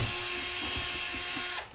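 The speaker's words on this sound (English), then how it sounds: "let me drill these" A power drill bores holes with a continuous whirring whine and faint rhythmic chatter, then cuts off abruptly near the end.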